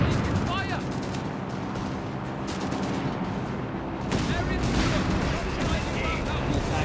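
Artillery and gunfire from a Company of Heroes 3 match between Wehrmacht and British forces: dense rolling booms and crackling volleys, with louder blasts near the end, while a commentator talks over the battle.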